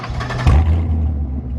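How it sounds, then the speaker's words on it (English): A Chevrolet C7 Corvette V8 is revved hard with no X-pipe fitted, giving a loud, close, deep exhaust roar that surges sharply once and then holds a throaty drone. "We're going to do a little revving sounds with basically, you know, no X-pipe on."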